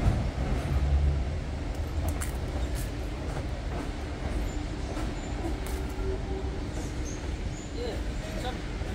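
Train rumbling past near Barron Falls, a loud, steady roar of wheels and carriages filling the whole stretch, with people talking over it.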